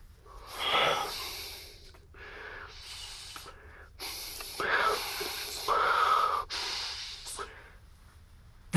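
A character in the video game Love and Deepspace breathes heavily, with several close, breathy gasps and exhales in uneven bursts over faint background music.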